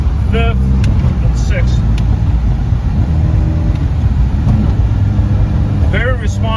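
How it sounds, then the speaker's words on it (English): A 2015 Subaru WRX engine pulls hard through the gears from second toward fifth, a loud, steady, close drone with brief dips at each shift, while someone talks over it. "second gear going into third, fourth, fifth, and"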